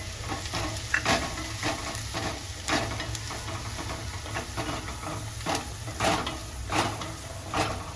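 Turmeric, Kashmiri chili powder, coriander powder and masala sizzling in hot oil in a pan for batata poha, with steady frying hiss and repeated scraping stirs throughout, no voices.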